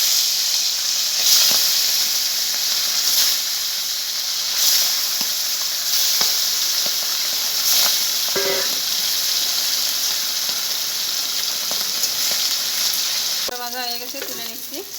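Tilapia fish fries in oil with a steady loud sizzle and hiss and occasional stirring scrapes throughout, with no talking until a brief voice near the end.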